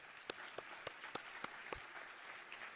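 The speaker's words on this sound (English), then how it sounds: "I think that deserves a round of applause" At a presidential address during the AAPOR 2014 conference, an audience gives a round of applause, with one nearby pair of hands clapping in a steady, regular beat over softer, scattered clapping from the room.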